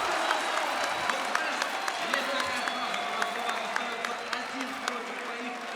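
Arena crowd at a Counter-Strike LAN grand final between Fnatic and Natus Vincere applauding and cheering steadily, a dense wash of clapping with scattered sharp claps and shouts throughout.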